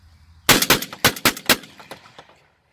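A Black Aces Tactical Peacekeeper 12-inch shotgun loaded with low-recoil birdshot fires about five sharp, loud shots in quick succession outdoors, each blast cracking close and then fading into a short trailing echo.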